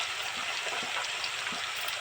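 Tomatoes fry in hot oil in a pan, giving a steady, dense sizzle that stays close and loud throughout with no voices.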